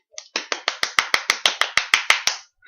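About a dozen sharp, evenly spaced claps in quick succession, close and crisp, from a small group or single person applauding, with no talk over them.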